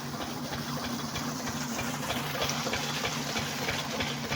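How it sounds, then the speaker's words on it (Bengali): Shallow irrigation pump engine running steadily outdoors to water a papaya field, a close, continuous chugging hum with a faint rhythmic knock and hissy wash throughout, no voices. "এটা আমাদের সেলা মেশিন"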